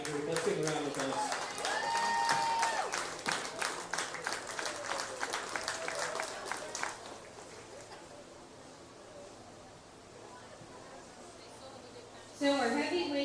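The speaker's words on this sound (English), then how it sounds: "Let's give them a round of applause." Crowd at a goat show ring at the Preston County Buckwheat Festival applauds the winners, a moderate burst of clapping for several seconds that fades into quieter ambient noise, with a voice briefly heard at the end.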